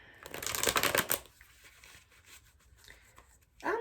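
Tarot cards being shuffled by hand: a loud riffle of rapid papery flicks, then softer sliding and tapping of the deck, and a final brisk burst at the end.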